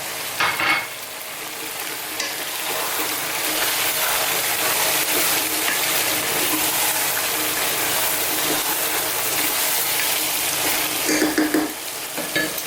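Fresh tomato hits a hot pan for a garlic chicken stew and sizzles loudly and steadily, with a few stirring scrapes at the start and end.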